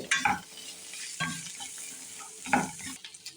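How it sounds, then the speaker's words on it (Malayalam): A spoon stirs cooked fish into a sizzling fish pickle mixture in a pan, in three scraping strokes spaced about a second apart over a steady frying hiss. "ഒന്ന് വേവിച്ച് വെച്ചേക്കണ മീൻ കൂടിയിട്ട് കൊടുത്തു നല്ലോണം മിക്സ് ചെയ്തു"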